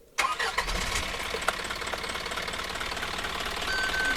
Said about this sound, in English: shooting the cold engine start here.